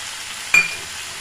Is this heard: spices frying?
yes